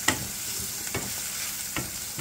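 Garlic and onions sizzle in a pan with a steady, bright hiss. A few sharper stirring clicks cut through the sizzle, heard close up with no speech.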